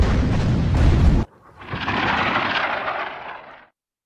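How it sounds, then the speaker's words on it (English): Video game artillery shells: a loud rushing, tearing whoosh overhead cuts off abruptly, followed by a softer distant explosion's rumbling boom that swells and fades away. "Artillery shells can be heard overhead, tearing through the air for hundreds of meters."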